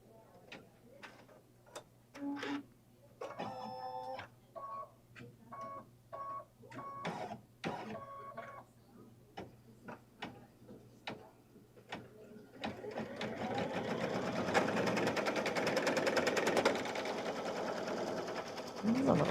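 An embroidery machine stitches a Kimberbell winter mittens quilt block, giving fast mechanical needle taps in bursts and pauses before a longer, denser stretch of continuous whirring stitching. It is close and fairly loud, and there is occasional talk.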